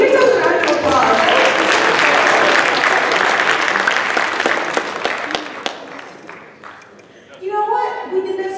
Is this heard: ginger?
no